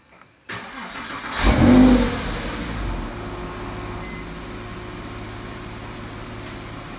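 A cold 2007 Porsche 911 S Cabriolet starts first thing in the morning: a brief crank, then a loud catch that flares up and settles into a steady, quieter idle close by.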